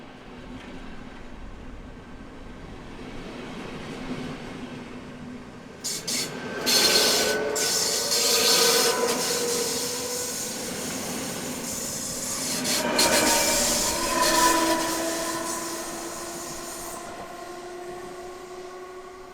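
Class 471 electric multiple units at Prague Liben station in Czechia, heard as a steady rail rumble and wheel noise that grows louder as the train passes close by, with hiss and a faint squeal from the wheels.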